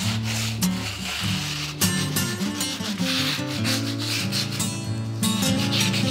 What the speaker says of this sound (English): Coarse sandpaper can be used to detail outside corners.